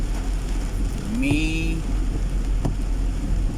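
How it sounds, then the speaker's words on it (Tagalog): Heavy rain pours steadily over a morning street in Kalibo, Aklan, a dense broadband hiss under a brief voice and a faint passing tone. "Umahataw ang ulan."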